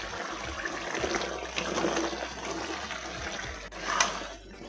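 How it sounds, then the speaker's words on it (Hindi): Potatoes go into a pan with yogurt for a Hindi-style aloo sabzi, producing a continuous wet sizzling hiss with a faint clatter, close and steady throughout, with no talking. "अब डाल देंगे इसमें आलू।"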